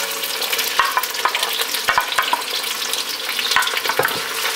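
Chopped yellow onion and green onion sizzle steadily in a pan, with occasional sharp clicks of stirring against the pan, and no one speaking.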